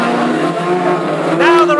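Classic hot rods, Ford Anglias and a Mark II, racing on the Aldershot oval in a summer final, with several engines howling and overlapping at close range, pitch rising and falling as cars pass, under a commentator's voice.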